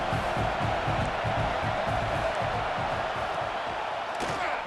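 A large football stadium crowd at a North Carolina versus Florida college game roars continuously, with rhythmic stomping or clapping thumps pulsing through the dense wall of cheering.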